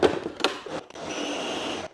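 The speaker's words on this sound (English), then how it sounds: "we're just gonna put this in the blender until it's all blended together" A blender briefly starts and then whirs steadily, mixing Dutch baby batter, preceded by a couple of knocks and clatters up close, then a continuous motor hum to the end.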